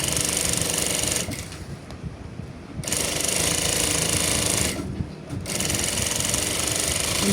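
A sewing machine backstitches at the start of a seam on a fabric toiletry bag, a loud, steady mechanical whir that runs, dips briefly twice, then resumes without talk.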